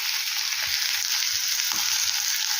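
Ivy gourd (kovakka) frying in oil in a pan, a loud, close, unbroken hiss of sizzling with a few faint bumps underneath.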